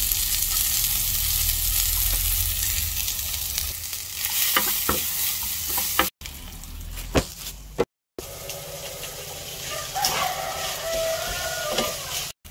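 Leftover rice sizzles and fries steadily in a pan for Filipino garlic fried rice, with scraping stirs and brief breaks as it is tossed, loud and close with no talk.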